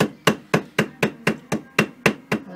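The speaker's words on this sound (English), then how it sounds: "with your hammer just tap gently" A hammer gently tapping a gasket over bolt holes while a homemade gasket is cut, about ten crisp, evenly spaced knocks roughly a quarter second apart, close and loud with no talk.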